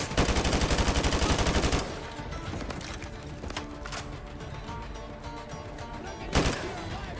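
Gunfire in Modern Warfare 2 Remastered: a fast, loud burst of rapid automatic fire up front, then scattered quieter shots and one sharper crack near the end over busy game background noise.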